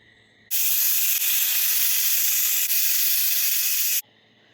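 A pressure cooker with potato curry inside lets out a loud, continuous hiss of escaping steam. The hiss lasts about three and a half seconds and stops abruptly, with no voices.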